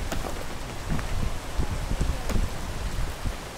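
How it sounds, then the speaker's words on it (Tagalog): Steady rain falls outdoors on a mountain hike, a dense continuous hiss of drops pattering on surfaces, close and fairly loud with no clear speech over it. "Ay, pucha na ulan."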